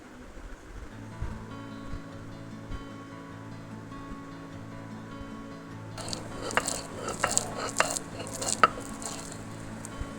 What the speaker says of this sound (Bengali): এরপর পুরো টিকাটাই বেটে নিলাম